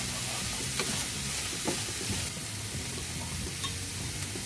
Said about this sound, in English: you want to brown off your onions